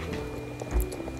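Brief horse sounds in the video game Star Stable, a short soft hoof thud and snort over a low game music background.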